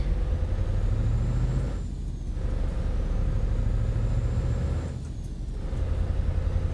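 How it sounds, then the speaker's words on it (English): Truck V8 engine in Euro Truck Simulator 2 rumbles steadily at a deep, constant pitch, twice easing back in brief dips, along with a faint high whine. "You can really hear the V8 rumble in this"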